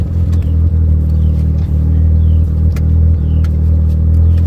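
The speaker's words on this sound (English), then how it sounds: "I love the sound of a rotary." A warmed-up Mazda RX-7 FC3S with a 13BT rotary engine runs close by, a loud, steady low rumble with a brief rev dip partway through and a choppy, pulsing idle.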